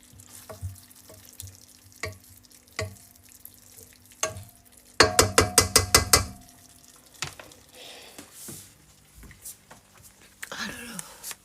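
Food frying and being stirred in a pan in a home kitchen: soft sizzling under repeated utensil scrapes and knocks, with a quick burst of sharp clatters midway, and a voice talking at times.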